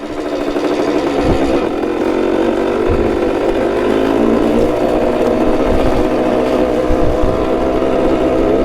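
A 1972 Yamaha CT2 motorcycle engine runs loud and close while being ridden, a continuous buzzy drone with a few dips and surges as the throttle shifts and a gear is missed; no talking.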